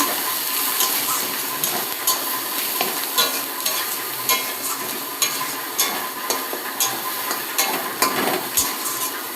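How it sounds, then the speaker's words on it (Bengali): Taro leaf paste is stirred in a hot pan, with a steady sizzle and frying hiss broken by repeated scraping strokes of the spoon at a regular pace, close up and with no talk. "পাতা বাটাটা খুব ভালো করে নেড়ে নিয়ে"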